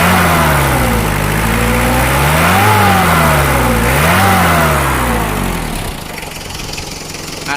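A Mitsubishi L300 van engine revs loudly up and down twice from idle, close by, then drops back to a quieter rough idle.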